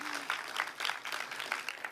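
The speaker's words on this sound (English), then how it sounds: "Give him a round of applause." A small audience gives a round of applause after a participant's turn at an event, producing a brief spell of light, scattered clapping nearby.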